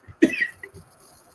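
A single sharp cough bursts out close by, followed by a brief rough throaty trailing sound, then quiet.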